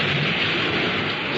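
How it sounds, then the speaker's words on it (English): A broad, steady rumble of thunder mixed with heavy rain hiss, loud and continuous through the short stretch. "The sound of thunder."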